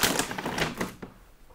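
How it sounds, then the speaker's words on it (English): Paper or plastic wrapping being torn and crinkled open by hand, a close, dense rustle of rapid crackles that thins out into a few scattered rustles at the end. "Just unwrap this package here"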